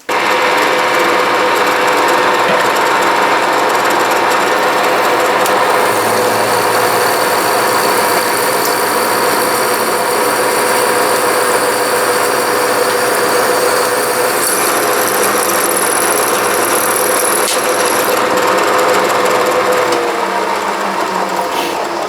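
A drill press fitted with a green split point drill bit runs loudly and steadily for over twenty seconds, an even whining motor drone with a slight pitch change midway and no talk.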